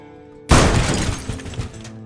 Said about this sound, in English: The van smashed into just another Tesla guy's Tesla a few seconds after he stopped for the two vehicles.